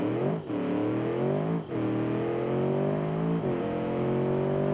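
A car accelerates hard toward 130, the engine climbing in pitch through three quick gear shifts, loud and close from inside the cabin with no talking.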